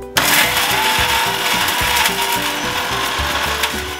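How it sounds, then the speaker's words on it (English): Mixie grinder blending paneer butter masala paste in its jar: a loud, steady mechanical whir with a rattling, grinding texture from the blades chopping the mixture. "So I'll be transferring this to the mixie jar where we can grind it."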